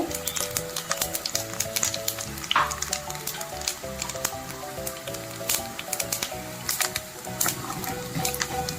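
Cumin seeds frying in hot oil for an Andhra-style tomato majjiga pulusu, a steady close crackling sizzle that runs the whole time with scattered sharp pops over faint background music.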